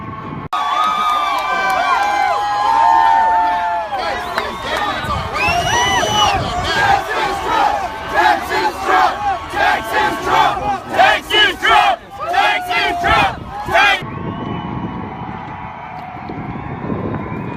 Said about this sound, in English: You can hear the cheers of the crowd.